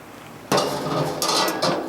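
Thick, heavy stainless steel cooking grates are set onto a Weber Summit S-470 gas grill, making a sudden loud metallic clank followed by two more rattling knocks close by.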